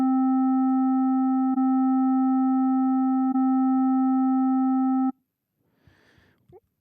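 Steady layered FM synthesizer tones, with one operator modulating two other operators at once, hold loud and unbroken for about five seconds, then cut off into near silence broken only by faint, brief blips.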